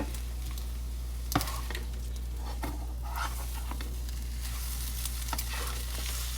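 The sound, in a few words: eggs being scrambled and sizzling in a pan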